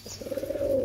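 A pigeon for sale, a pure-bred bird kept by a Delhi seller, gives a short low coo, close and steady, with no talk over it.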